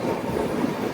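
A train runs through the hilly region near Dudhsagar, giving a steady rumbling roll with faint rhythmic rail noise, even and moderately loud throughout.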